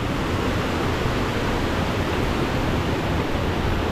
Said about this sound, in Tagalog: So ito, waterfalls ulit.